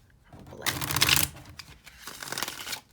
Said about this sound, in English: Give it 2 shuffles.